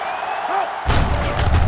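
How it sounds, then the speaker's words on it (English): Stadium crowd in NCAA Football 07 during Penn State at Wisconsin, starting quietly and then surging into a loud, sustained roar that swells suddenly and stays high. "this crowd is going absolutely insane"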